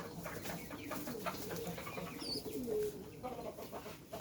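Pigeons kept in a home flock coo softly in low, rolling murmurs, faint and close, over a quiet background of rustling and a few higher chirps.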